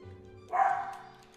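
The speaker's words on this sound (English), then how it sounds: "Those of you that are from last season and before will recognize my dog's barking." A pet dog gives a single sharp bark about halfway through, fairly close and loud, with a brief ringing tail and a low steady hum underneath.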